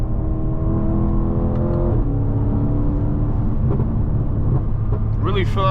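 A BMW M550i drives steadily with a low engine drone, harmonics sliding as it shifts through gears, while a voice speaks over it near the end.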